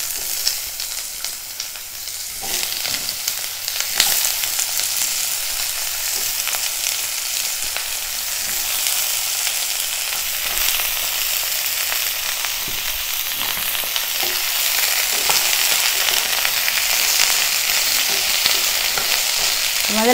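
Diced eggplant sizzles and fries in hot oil in a pan for a Tamil eggplant and black-eyed pea curry, with steady crackling and occasional stirring scrapes, close and alone.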